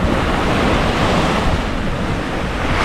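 Sea waves washing onto a beach shore in the early morning, a loud continuous roar of surf with wind noise, nearby and steady throughout.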